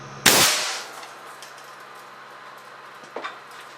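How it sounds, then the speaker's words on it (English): An air cannon fires at 325 psi at a bathroom sink, one sharp loud blast that rings out and decays, followed by a fainter knock about three seconds later. "Firing at 325 psi. And fire."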